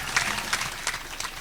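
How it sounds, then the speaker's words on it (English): Brief burst of audience applause at an academic trade fair, scattered claps with a few sharper peaks over a short stretch, steady and moderately loud. "Stand up and let us give a big applause to the Catholic University of Buea"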